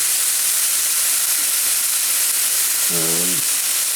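Onions sauté on medium heat, giving a loud, steady, even sizzling hiss throughout, with a brief tonal whine rising out of it near the end.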